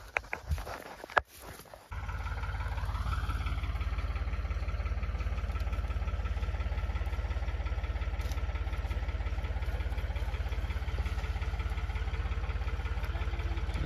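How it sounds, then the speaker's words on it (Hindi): A tractor engine idles in a village farmyard. After a few sharp clicks and knocks, a steady, loud, low throbbing rumble runs on without a break, and no one speaks over it. "अरे ध्रुव जी का फोटो शूट करूंगा बढ़िया, फोटो खिंचवा लेते हैं ट्रैक्टर पे।"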